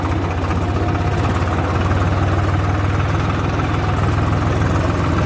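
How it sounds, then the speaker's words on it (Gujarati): A tractor engine idles and runs steadily at close range, a constant low rumble with a slight vibration that never breaks. The tractor is out in rain on a waterlogged farm track, hauling cow-dung manure. "ટ્રેક્ટર ફસાઈ નહીં જાય તો સારું છે"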